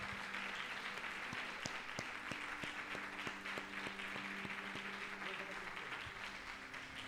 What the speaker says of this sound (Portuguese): Glorifique o Senhor com as suas palmas.